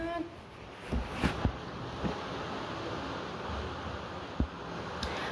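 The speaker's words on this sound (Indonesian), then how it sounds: "Anginnya kenceng banget." Strong wind buffets the microphone in steady broadband rushing, broken by several sharp thumps and gusts, while a voice speaks faintly underneath.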